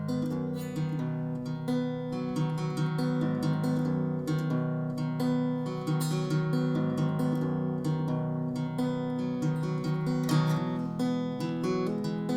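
Guitar verse of a song, played like the intro but with fewer hammer-ons, a continuous close strummed pattern at steady volume with no voices.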